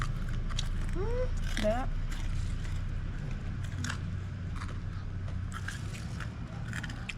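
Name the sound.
biting crispy deep-fried mushrooms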